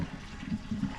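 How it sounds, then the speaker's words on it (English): Hot pasta water pours off from a pot into a colander, giving a brief close gush and splash with a low gurgle. "I'm going to pour off all this pasta water."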